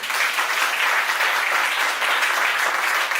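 A church congregation claps and acclaims loudly, a steady dense burst of applause and cheering filling the room for a few seconds.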